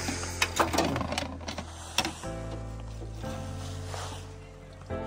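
A car engine cranking but not catching in cold winter conditions in the Spiti mountains, a repetitive mechanical whirr that stops and restarts, with talk over the first part.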